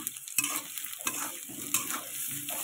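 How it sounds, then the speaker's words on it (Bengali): Chopped ginger and potatoes fry in a pan for a cabbage dish while a spatula stirs them with repeated scraping strokes over a steady sizzle, close and clear. There is a faint constant high whine, and no voices. "এর মধ্যে আদা কুচিগুলো দিয়ে আমি ভালো করে নাড়াচাড়া দেবো"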